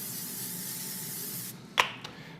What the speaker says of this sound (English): Pam cooking spray. We're just gonna hit these so they brown.